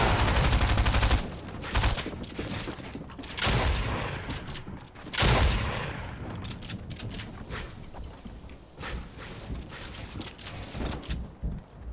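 Gunfire in the video game Fortnite crackles in dense, loud bursts, fading into sporadic shots and rattles with a few heavier booms.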